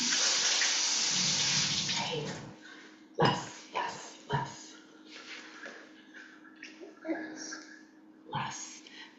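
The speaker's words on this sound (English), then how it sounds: "Wash my hands." Tap water runs steadily into a kitchen sink while hands are washed, then stops, followed by a few clunks and soft handling noises with a voice nearby.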